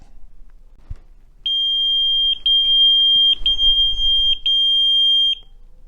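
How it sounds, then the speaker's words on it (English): A shrill electronic pager beep sounds continuously for about four seconds, broken by a few brief interruptions, in an otherwise quiet room. "the page will beep with the actual message that was sent out"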